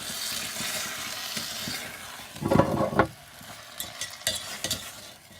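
A spoon stirs aromatics in sizzling oil for a lamb curry in a pressure cooker on a Trangia stove, starting with a steady fry hiss, then a few scraping stirs and clattery knocks, close up and without talk.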